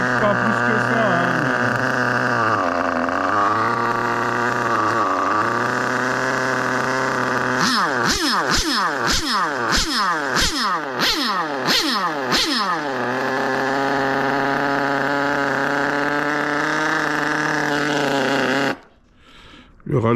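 A Sirio S12 Evo3 engine idles loud and continuously on a track, its steady drone broken midway by a run of sharp, rhythmic bursts before it suddenly cuts off near the end, with people talking over it.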